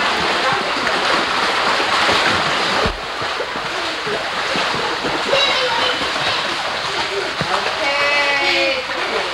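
Children splash in a backyard pool during home swim lessons, with continuous close splashing and sloshing water and bursts of louder splashes, while people talk over it.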